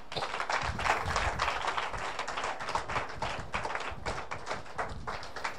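A church congregation claps steadily in praise of the Lord, a dense continuous patter of many hands, fairly close, with no clear speech over it.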